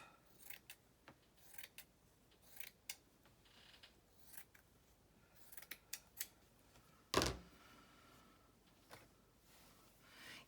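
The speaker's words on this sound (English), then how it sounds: "We can use the polka dotted part of this eyelet. So let me cut some of that off." Scissors cut through polka-dotted eyelet lace in a series of quiet, irregular snips spaced across the clip, close and soft, with one sharper louder click in the middle and no talking.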